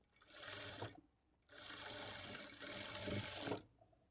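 A sewing machine stitches blouse side joints in two runs of quick, buzzing, rattling stitching, the first short and the second longer, each stopping cleanly, faint and close with no talk.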